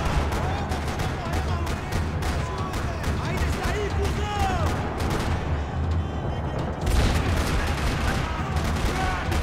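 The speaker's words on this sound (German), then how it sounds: "Another parking lot rattling with gunfire." Dense, continuous gunfire crackles through a parking lot shootout in Max Payne 3, with rapid overlapping shots and bursts at close range over a busy background, briefly thinning near the middle before resuming.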